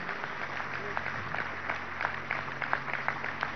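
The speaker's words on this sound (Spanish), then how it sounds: "Vamos a darle un aplauso de felicitaciones a la Universidad Nacional Experimental" Applause from an audience at a Venezuelan government event honoring the national security university, a steady wash of many hands clapping throughout, with some speech-like sound mixed in.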